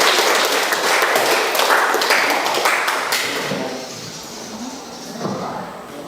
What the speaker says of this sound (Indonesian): berikan aplaus untuk kita semua